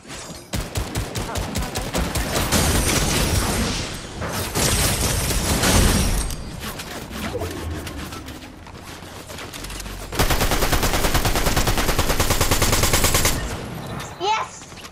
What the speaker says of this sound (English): Watch out, there's somebody shooting.